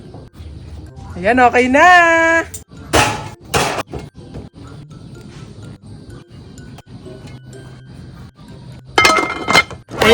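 A lid is lifted from a pot of boiled black corn with a few bright metallic clinks and clatters, close by. A person talks before and between the clinks.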